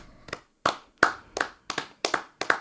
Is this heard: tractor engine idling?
no